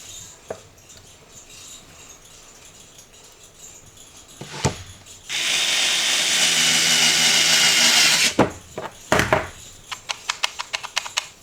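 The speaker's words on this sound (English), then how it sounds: "Turn on my fancy screwdriver." A small electric screwdriver spins up and whirs steadily for about three seconds while driving screws, followed by a few short bursts and scattered clicks and taps of parts being handled.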